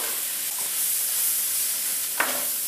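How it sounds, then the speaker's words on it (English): Vegetables hiss and sizzle steadily as they are tossed in a hot pan for beef stroganoff, a close, even frying crackle with a brief scrape or clatter near the end and no talking. "we're going to put our vegetables in there and just start to give them a little toss"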